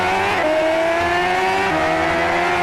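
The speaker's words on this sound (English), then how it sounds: "playing the car racing game" Racing video game car engine whines steadily with shifting revs and a gear change partway through, tires hissing underneath; loud and continuous with no talk.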